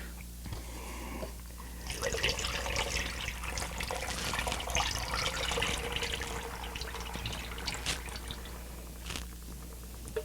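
Apple juice poured and rinsed into a cider fermenter makes a steady splashing stream of liquid that runs for most of the span, fairly close, with no talk over it.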